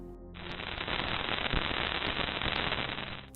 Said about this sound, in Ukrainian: Це звук сотень мільйонів крихітних частинок пилу від розірваних сонцем комет та астероїдів